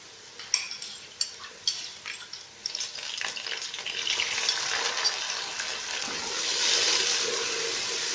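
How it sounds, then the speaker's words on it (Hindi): Garlic ginger paste fries with onions in a pot for chicken biryani: a few sharp stirring knocks at first, then a steady, close sizzle that grows louder and holds, with no talking. "अब हम लहसुन अदरक के पेस्ट को भून लेते हैं प्याज़ों के साथ।"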